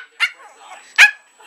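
A small shih tzu gives two sharp yappy barks close by, separated by a soft low growl in between, a person's voice faintly in the background.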